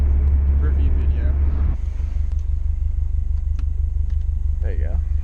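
Subaru WRX driving on back roads, heard from inside the cabin as a loud, steady low engine and road rumble that continues without a break.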